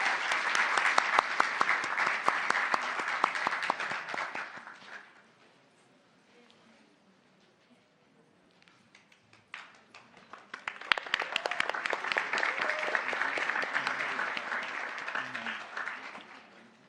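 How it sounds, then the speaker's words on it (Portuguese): Applause from a conference crowd at a pitch event in Brazil, loud at first, fading to near silence midway, then swelling back into strong, sustained clapping. "Uma salva de palmas, por favor."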